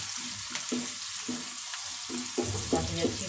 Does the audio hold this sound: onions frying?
yes